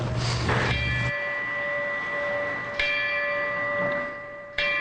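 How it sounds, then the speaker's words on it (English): Cape Vincent Volunteer Fire Department bell rung at a firefighter's funeral, three metallic strikes with long ringing decay between, near and clear over faint background noise. "The ringing of this bell signaled the end of 25-year-old Mark Davis's service to the Cape Vincent Volunteer Fire Department"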